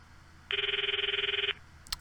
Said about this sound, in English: I stopped the video and called Marie's phone from my address book.